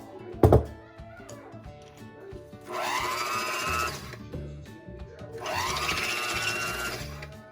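An electric blender whipping dalgona coffee runs in two loud bursts of about a second and a half each, with a short thunk at the start and quieter kitchen noise between the bursts.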